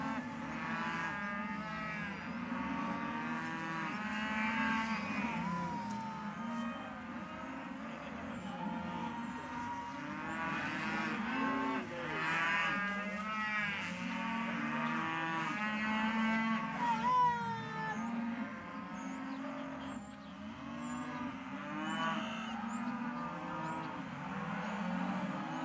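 Devon cattle mooing repeatedly at a livestock gathering, long drawn-out calls from several animals overlapping at moderate distance, with a low background rumble underneath.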